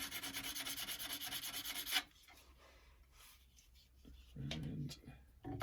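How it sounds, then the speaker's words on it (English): Cabinet scraper scraping sycamore wood in a quick, steady rhythm of close, dry rasping strokes for about two seconds, then quieter handling noises and a voice speaking. "So I'm just going to take the scraper to it."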